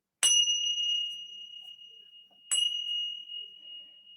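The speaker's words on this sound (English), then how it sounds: "my beautiful Tibetan bells that I use to call out to the higher divine energy" A Tibetan bell is struck twice, each a clear high ding that rings on and slowly fades in a quiet room, the second strike about two seconds after the first.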